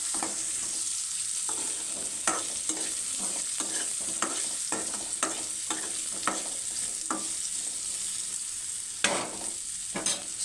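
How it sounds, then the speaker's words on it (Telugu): Carrots, onions and curry leaves fry in a pan on low heat, a steady soft sizzle running throughout while a spoon scrapes and stirs in repeated short strokes, with a sharper clatter near the end. "స్టవ్ని సిమ్లో పెట్టుకొని ఒక 10 నిమిషాలు వేయించుకోవాలి."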